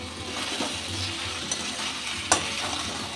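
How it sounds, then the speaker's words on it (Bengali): Chicken for Kolhapuri chicken fries with salt, turmeric and spices in a pan, a steady close sizzle with occasional stirring scrapes and a couple of brief clinks of the spoon. "মাংসটা আমি একটু ভেজে নেব"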